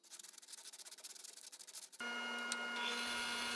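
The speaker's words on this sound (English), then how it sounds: "I did some much needed sanding to smooth everything out" Hand sanding of epoxy-filled wood, quick rhythmic rubbing strokes up close, then a steady whirring power-sander drone takes over.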